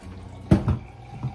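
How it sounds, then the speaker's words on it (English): Water splashes into an electric kettle from a tap in a kitchen in a short burst of pouring and dripping, close and fairly quiet. "I fill it all the way up with water."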